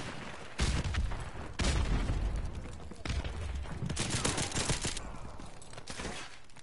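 Repeated bursts of gunfire in Modern Warfare Remastered online multiplayer, loud clustered volleys with short gaps between them, over a steady game background.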